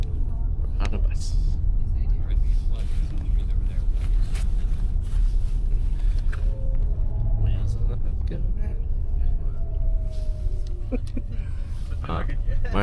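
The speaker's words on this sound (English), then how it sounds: "On a bus." A bus rumbles steadily from inside on the way into Reykjavik, with a constant low engine and road drone, and people talk over it throughout.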